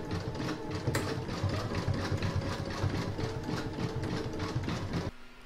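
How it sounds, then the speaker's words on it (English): An embroidery machine stitching a satin-stitch decorative edge around a heart shape, a loud, steady mechanical whir with a fast rhythmic needle chatter that stops abruptly near the end, leaving a faint hum. "I'm going to pop this back into my machine and stitch round number 13, which is going to do the satin stitch decorative edge all around the heart"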